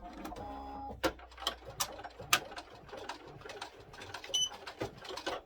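An embroidery machine stitches pink satin stitches for a composition notebook cover, producing fast rhythmic mechanical clatter with repeated sharp clicks and brief whirs; no one speaks.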